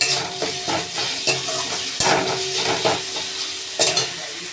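Spoon stirring tomato masala as it fries in a pan for a Bengali bhola fish curry, with steady close sizzling broken by repeated scraping strokes and a few sharper clinks.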